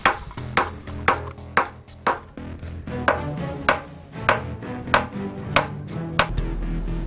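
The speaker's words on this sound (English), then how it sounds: "Steve's going to have a bit of a chisel at the concrete" A chisel struck against broken concrete pipe outdoors, a steady series of about a dozen sharp metallic clinks spaced roughly half a second apart, fairly close and clear.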